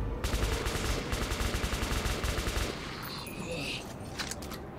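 Rapid automatic gunfire rattles in a dense, continuous burst in the video game Metro 2033 Redux, loud and close, thinning after a few seconds into scattered shots and background combat noise.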